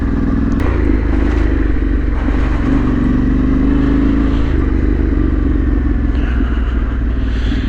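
Motorcycle ridden along a dark woodland trail at night, its engine a continuous close drone that swells and eases as the throttle changes, with some rattling clatter over the rough ground.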